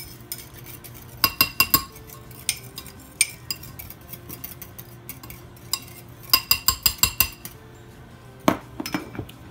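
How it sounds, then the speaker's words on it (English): A whisk clatters against a bowl while working garlic paste into mayonnaise, close and bright, coming in quick bursts of rapid clinking separated by quieter pauses and lone taps. "Whisk."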